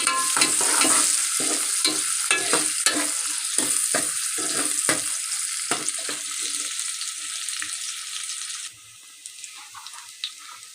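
Chopped onions hit hot cooking oil in a pan for dhaba-style red lentil daal, sizzling and crackling loudly and steadily while a spoon stirs and scrapes in quick repeated strokes, the frying settling quieter near the end.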